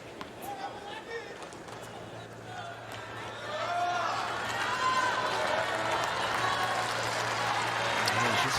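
A tennis crowd at a 2025 US Open third-round match swells into sustained cheering and applause for Emma Navarro, building midway and staying loud to the end, with voices over it.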